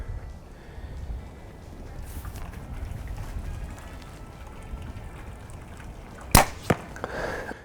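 A single arrow released from a Backyard Bows Elite Basin compound bow, with a sharp snap and short follow-up thumps near the end, after a stretch of steady wind noise buffeting the microphone outdoors.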